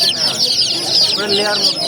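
Baby chickens at a busy poultry market cheep and peep in a constant high-pitched chorus, with people talking amid the steady flock noise.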